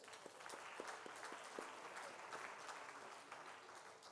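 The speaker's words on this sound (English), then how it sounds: "Can we give them an applause?" An audience at a mining leadership awards ceremony applauds, steady crowd clapping with a few distinct sharp claps standing out, moderately faint and continuous throughout.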